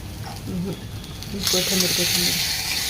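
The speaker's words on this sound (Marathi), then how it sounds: "तडका दिलाय आपण इथे" Tadka tempering for dal khichdi sizzles in hot oil, a voice speaking over the first half before the frying hiss swells loud and steady for the rest.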